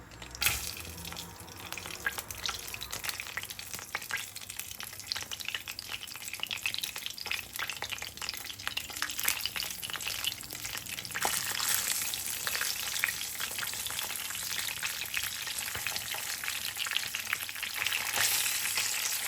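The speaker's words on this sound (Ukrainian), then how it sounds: "На розігріту сковорідочку викладаємо наші котлетки." Steady, continuous frying sizzle of chicken and mushroom cutlets in a pan throughout, moderately quiet and close, with occasional clinks and a faint running-water hiss.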